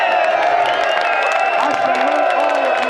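Loud, dense crowd noise from a gathering outside the Bilderberg meeting in Watford in June 2013, with voices and cheering blended into a continuous roar throughout.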